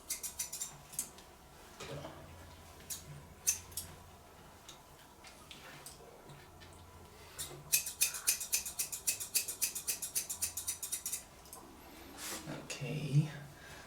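Scissors trimming a bichon's fur during home grooming: scattered soft snips, then a quick run of rapid, close snipping clicks near the middle, with occasional low voice sounds and faint handling noise.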